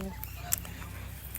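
Ducks, including Chinese ducks, give a short, honking call over a low background murmur, with a brief sharp accent in the middle of the call.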